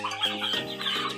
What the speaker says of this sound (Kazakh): Балапандарға түнгі обзор.